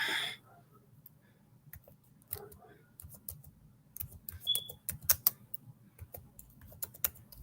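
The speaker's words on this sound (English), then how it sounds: "I'm going to type it in the chat." Fingers tapping on a computer keyboard to enter chat text, bursts of quick irregular clicks that grow busier and louder toward the end, heard close over a faint steady background hum.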